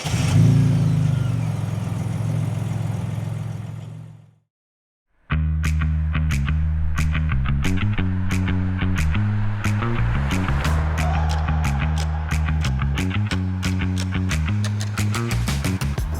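A Hyundai Grandeur with a 3.0 V6 engine cruises above 80 km/h, heard from inside as a steady low engine drone. After a brief dropout, the drone returns with sharp, regularly spaced clicks.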